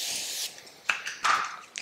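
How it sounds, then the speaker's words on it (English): Setting spray misted onto a face in several short, soft hissing bursts, close and quiet with small rustles in between. "We're just gonna put on some setting spray and some lip gloss"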